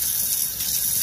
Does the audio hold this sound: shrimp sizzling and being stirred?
no